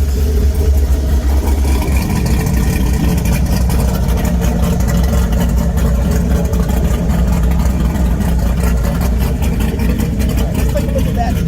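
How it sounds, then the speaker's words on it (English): A Pontiac Fiero with remote-controlled exhaust cutouts opened rumbles loudly and continuously, the engine note deep and throaty with a sustained revving roar throughout, close by. "Let's hear those exhaust cutouts."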